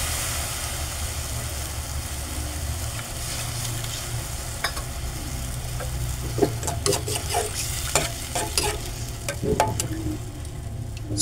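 Soy sauce and ground black pepper sauce simmering in a pan for a white salmon steak dish, a steady low bubbling hiss with occasional sharp clinks and scrapes of a utensil against the pan, no voices.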